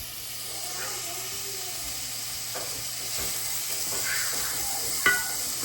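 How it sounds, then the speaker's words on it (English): Pork belly frying in a pan, a steady close hiss and sizzle with a few sharp pops, while a person moves the meat around with soft scraping. "I'm just cooking the pork, and I'm just spreading it out right now."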